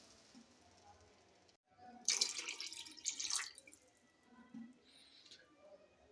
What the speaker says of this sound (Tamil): இந்த கிளாஸால் 2 டைம்ஸ் வந்து தண்ணி ஆட் பண்ணிக்கலாம்.